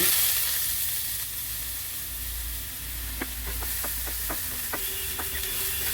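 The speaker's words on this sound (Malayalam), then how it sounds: "നമുക്ക് സവാള ചേർക്കാം സവാള അതാ പൊടി പൊടിയായി അരിഞ്ഞതാണ്" Finely chopped onions hit hot oil with cloves and cinnamon for paneer masala, giving a steady loud sizzle and hiss. A series of light clicks from stirring comes in partway through, and nobody speaks.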